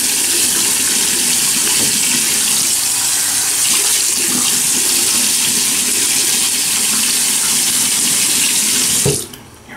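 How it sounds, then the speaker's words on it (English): Tap water running into a sink for wetting the face before a shave, a loud, steady, close gush that carries on without a break and then stops abruptly near the end. "let me wet the face"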